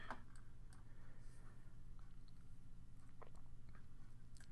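Faint, scattered computer mouse clicks, irregular and soft, against a steady low hum while drafting in CAD software.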